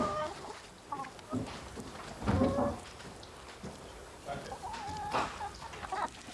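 A flock of hens at a fishing settlement in Petty Harbour clucks in scattered bursts, moderately close, over a soft outdoor background.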